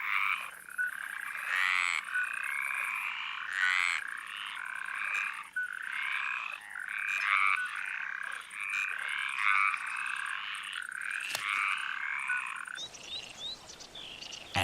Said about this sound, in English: Mediterranean tree frogs were born to sing.